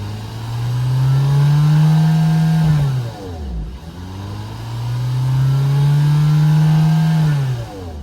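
The 1.6-litre turbocharged hybrid engine of a 2024 Hyundai Tucson Hybrid N-Line SUV is revved twice, each time climbing to a sustained high drone before dropping back, loud and close, with no voices.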